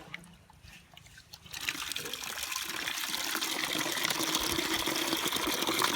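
Water pours steadily onto plants, starting as a soft trickle and swelling into a louder, continuous splashing stream.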